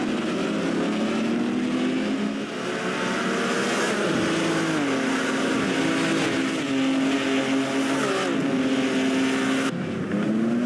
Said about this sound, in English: Here we can see Serafini going through the second corner